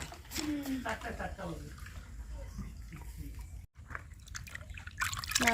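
Water is poured and splashed while hot and cold are mixed for bathing a child, a trickling, sloshing flow with people talking over it and a brief drop out partway through.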